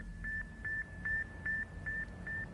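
Faint, weak radio signal from the Sputnik satellite, picked up around 20 MHz, pulsing in regular cricket-like beeps about every 0.4 seconds, each a short steady tone over a low hiss of static noise.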